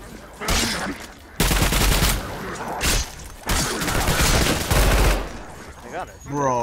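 Rapid automatic gunfire in a Roblox shooter game, loud close bursts of fast-firing rounds separated by short pauses, with a synthetic sweep near the end.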